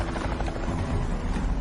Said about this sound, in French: l'hélicoptère de la gendarmerie commence à survoler Bouloc et ses environs.